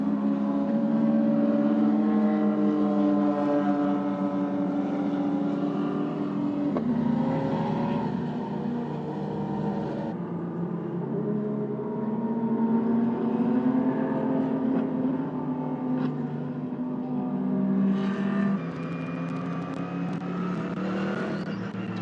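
Race cars circle the track at the 2024 Shanghai 8 Hours, their engines droning and shifting pitch as they rise and fall, passing at a moderate distance in a continuous wash of motor noise.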